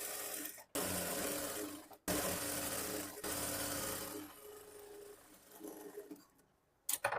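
Sewing machine stitching a blouse runs in several bursts with abrupt stops between them, the long middle run tapering off before one last short spurt; quiet and close.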